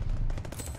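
Type 100 submachine gun in Call of Duty Vanguard firing a rapid, dense burst of close shots under a heavy low rumble, lasting under a second.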